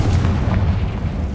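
A Confringo fire spell blast from the Hogwarts Legacy video game, a deep, rumbling boom that holds steady and loud through the short moment with no pause.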